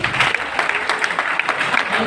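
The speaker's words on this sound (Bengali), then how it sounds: "জোরে একটা হাত তালি দেন" A hall audience at a business meeting in a party centre claps loudly together, a dense sustained burst of applause close and filling the room.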